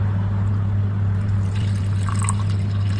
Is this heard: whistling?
no